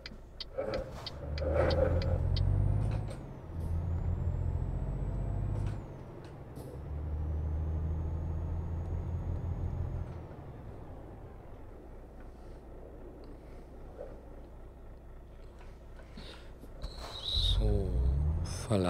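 Truck driving in Euro Truck Simulator 2: a loud engine drone with air brake hisses and shifts in pitch, easing to a quieter hum before revving up again at the end.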